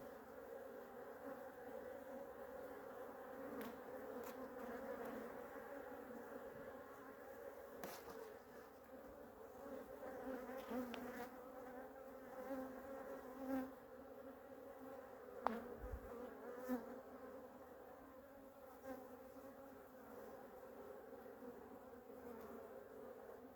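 Honeybees at an open, queenless hive give a dense, continuous buzz that holds steady throughout, with a few faint knocks and clicks. Nobody talks.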